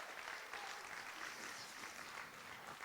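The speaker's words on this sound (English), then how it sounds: "Let's give them a huge round of applause." Applause for a donation at a charity gala, a steady wash of many hands clapping, fairly faint and distant, holding evenly for a few seconds with no talk over it.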